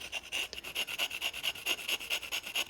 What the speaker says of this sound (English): I really like the sound of the scraping against the tile.